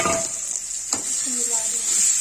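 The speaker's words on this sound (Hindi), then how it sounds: "प्याज प्यूरी हो गई है, तो अंडा डाल देंगे" Eggs going into sizzling onion puree in a pan on the stove: a steady crackling fry runs throughout with a few scraping stirs, close and moderate in volume.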